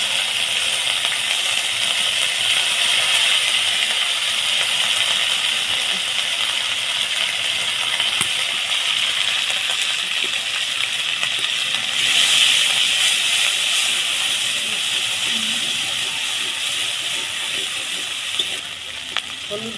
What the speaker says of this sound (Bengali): আদা আর চিংড়ি মাছের মাথা বাটা একসঙ্গে দিয়ে দিচ্ছি।